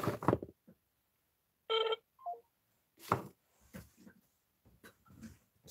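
Voicemail beep on a phone line after a busy-subscriber message: a short, clean electronic tone stands alone in the middle of quiet gaps, surrounded by brief bursts of recorded voice and faint line noise.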